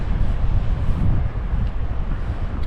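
Steady wind buffets the microphone beside seaside beach huts on a promenade at Clacton-on-Sea, a continuous low roar with no let-up and no one speaking.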